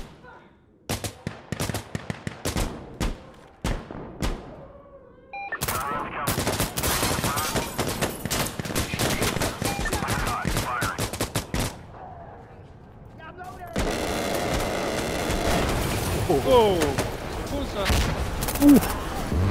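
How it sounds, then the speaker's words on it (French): An artillery bombardment in the tactical shooter Insurgency Sandstorm: scattered sharp gunshots build into a dense, continuous roar of heavy fire and blasts, while people talk over it. "Je vais mettre bombardement"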